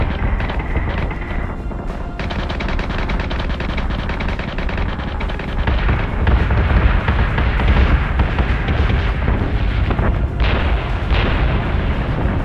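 Spaceship weapons in the Battlestar Galactica Deadlock video game fire in a continuous, heavy barrage of booming cannon blasts and rapid explosions, loud and dense throughout, with no break.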